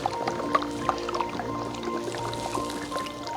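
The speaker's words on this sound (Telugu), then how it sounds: "ఇక్కడ చూడండి, ఫ్రెష్ వాటర్ వస్తున్నాయి." Fresh meltwater trickles at a frozen waterfall in -20°C cold, heard close as a steady gurgle with scattered wet drips and splashes.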